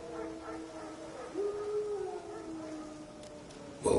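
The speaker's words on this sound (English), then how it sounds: "Wolves? No. Wild dogs." Wild dogs howl in The Witcher 3, a sustained wavering howl rising midway over a low ambient game backdrop, with softer overlapping cries and a sharp noise burst at the end.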